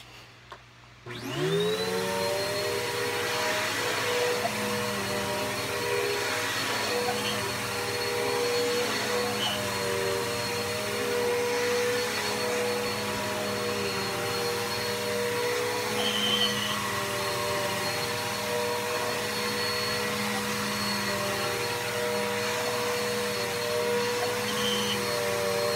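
A Bissell vacuum cleaner with a fault switches on and runs steadily for a long stretch with a droning whine and an odd warbling, buzzy undertone, loud and close.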